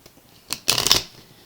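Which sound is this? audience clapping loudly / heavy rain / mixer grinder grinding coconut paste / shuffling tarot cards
shuffling tarot cards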